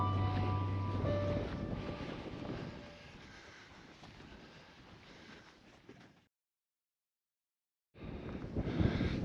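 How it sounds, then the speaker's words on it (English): Wind roars across a microphone on a steady hillside climb in the Brecon Beacons, a strong buffeting rush that fades, cuts out completely for a moment, then returns loud. "got the wind blowing down your throat all the time"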